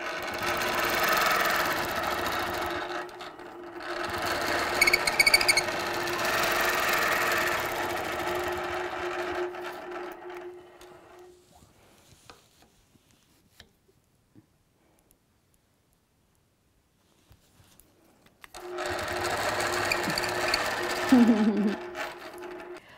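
A sewing machine quilts curved lines against a ruler template, whirring steadily up close for about ten seconds, fading to near silence with faint ticks, then starting again for a final run.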